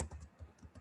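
Soft keystrokes on a computer keyboard as a command is typed into STATA, about half a dozen quick, faint taps in an uneven rhythm, close by and alone with no talk.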